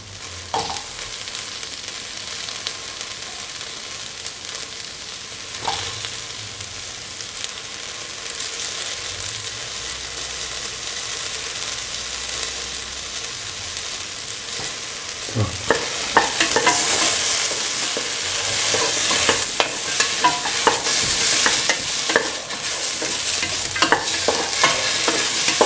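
Carrots stir-fry in a hot pan with a steady sizzling hiss, a few spatula scrapes and knocks against the metal, the frying growing louder and more crackly partway through, close and with no talk.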